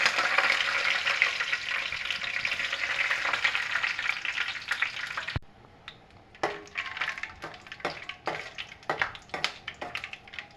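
Peanuts dropped into well-heated oil set off a loud, dense sizzle that suddenly falls away. A quieter crackle follows, broken by scattered pops and stirring clatters, with no voices.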